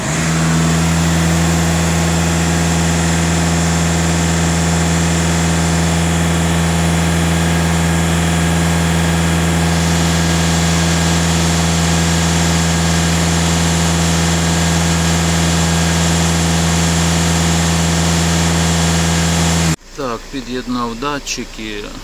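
A Skoda car's diesel engine idles with a steady, loud, close drone, then revs up near the end as the tone shifts and rises. The engine runs alone with no talk over it.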